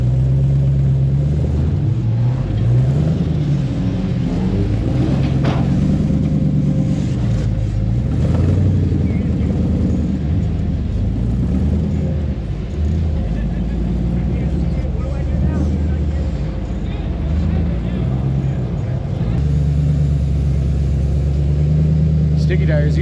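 A Jeep Cherokee engine revs and roars continuously off-road on a rocky trail at Johnson Valley, rising and falling in pitch as it strains, with someone talking over the noise.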